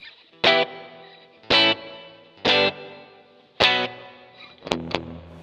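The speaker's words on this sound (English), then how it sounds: "I'm sure it's probably like a Bucket Brigade device, like a slapback kind of sound." Guitar played through a dark, Bucket Brigade-style slapback delay in the AmpliTube Joe Satriani Collection, four sustained chords each ending in short repeats, then two quick stabs near the end, with no other sounds.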